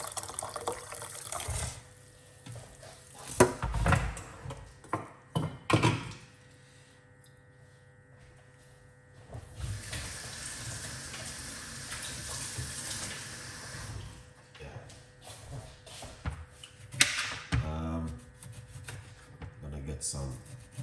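Hot water pours into a large cup in a kitchen, making a soft splashing trickle that comes and goes in a few short bursts. Quiet handling sounds fill the gaps.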